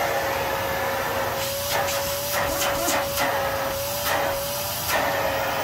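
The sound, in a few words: Kenmore vacuum cleaner running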